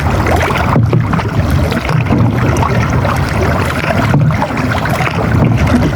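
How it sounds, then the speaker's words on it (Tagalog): Strong wind blows outdoors, a loud, continuous roar buffeting the microphone for the whole stretch, with nothing else standing out. "Ngayon humangin."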